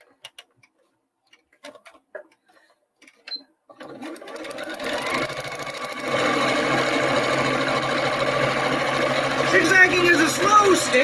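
A sewing machine starts up after a few scattered clicks and runs a continuous zigzag stitch, a steady close whirring hum with rhythmic ticking that grows slightly louder toward the end.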